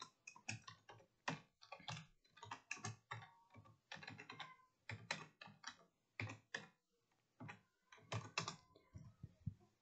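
Typing on a computer keyboard at a command prompt: rapid irregular bursts of crisp key clicks in short clusters with brief pauses, close and fairly quiet, with no voices.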